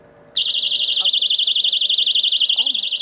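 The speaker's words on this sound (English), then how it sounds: "My rape whistle that alarms." Personal safety alarm, a pocket rape-whistle type, suddenly switches on and gives a loud, close, rapidly warbling shrill siren that runs continuously, with faint voice sounds beneath it.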